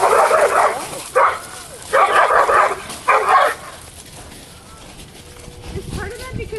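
A nervous dog barks in four loud bursts in quick succession, then falls quiet while fainter background noise and movement continue.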